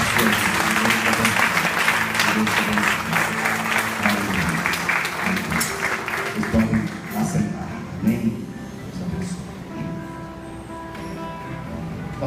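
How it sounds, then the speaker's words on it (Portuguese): A church congregation at a service applauds heartily, a thick burst of clapping that gradually thins out after about seven seconds into scattered claps, murmuring and the shuffle of people settling, with a low musical tone lingering beneath. "Vamos aplaudir ao Senhor Jesus pela cura da sua vida."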